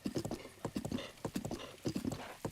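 Rhythmic clip-clop of horse hooves trotting along a road in Zelda Breath of the Wild, a steady repeating pattern of paired hoof strikes under a faint ambient background.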